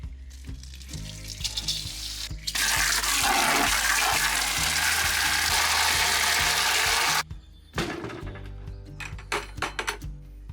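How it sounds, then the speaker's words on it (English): A wet lapidary grinding wheel at 120 grit shapes crystal opals with a loud, steady watery rushing and grinding for several seconds, set between quieter stretches of motor hum and light scraping. "We are starting off on the 120 grit wheel. This is purely a shaping stage."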